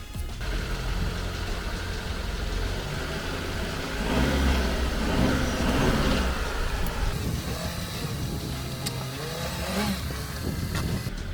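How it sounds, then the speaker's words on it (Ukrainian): A car rolls slowly over a row of tape measures on the ground, its engine running steadily up close, with a burst of crunching and rumbling mid-pass and a few faint clicks as the tyres go over. "а тепер давайте я ті всі рулетки переїду автомобілем і побачимо, як вони себе проявлять"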